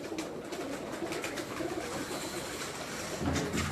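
Teddy pigeons cooing softly in a loft, faint low murmuring calls with light background noise and no speech.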